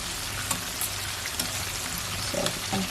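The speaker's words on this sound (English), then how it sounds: "So you're only supposed to fry it for like 2 minutes." Fish pieces frying in hot oil in a pan, a dense continuous sizzle and crackle close by, with a few faint knocks of a utensil against the pan and no speech.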